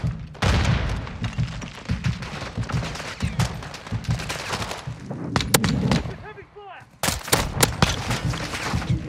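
Video game gunfire rattles in dense, rapid volleys while a grenade explosion booms through, loud and close, with voices shouting underneath.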